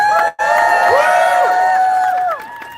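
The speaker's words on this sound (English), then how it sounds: "Give yourselves a round of applause." Crowd at an outdoor basic income march in New York City cheering and whooping loudly, with shouts and voices rising over the noise before it drops off near the end.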